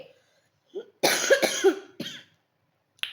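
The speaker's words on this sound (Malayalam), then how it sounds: "സോറി ചുമ വിട്ടുമാറിയിട്ടില്ല" A person with a lingering cough coughs in a short cluster of harsh bursts, then once more after a pause, close to the microphone in an otherwise quiet room.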